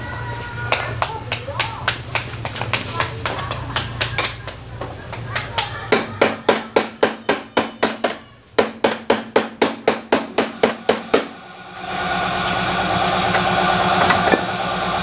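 A long screwdriver is hammered into a screw on a Honda Wave 100 motorcycle, producing a rapid series of sharp metallic taps in bursts, then a steady engine idle.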